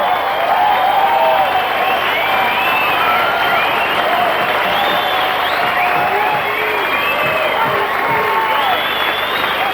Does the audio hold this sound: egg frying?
no